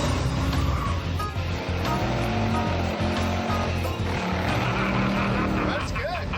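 Ford Fairlane with a 435-horsepower motor out on a test drive, a loud, continuous engine roar and road rumble filling the cabin while people talk over it.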